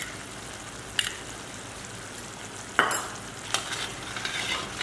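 A spoon stirs Kolhapuri onion-garlic masala into gravy sizzling in a pan, a steady frying hiss broken by a few scraping strokes against the pan, close and fairly quiet.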